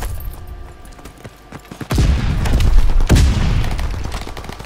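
Gunfire in Call of Duty WW2 multiplayer: scattered quieter pops and ticks at first, then from about two seconds heavy, booming bursts of rapid shots and a big blast near three seconds, loud and close.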